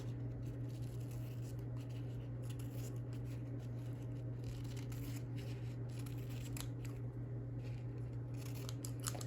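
Scissors trimming paper for a purple boho envelope journal, a series of soft, close snips and light paper rustles over a steady low background hum, no talking.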